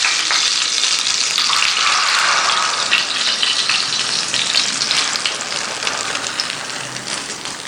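A spoonful of ghee sizzles and crackles steadily in a frying pan while making egg bread, a close, continuous hiss with no talking.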